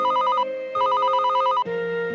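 A phone rings nearby with a bright electronic trilling ringtone in two rapid warbling bursts separated by a short gap, followed by a steadier lower tone. No voices are heard.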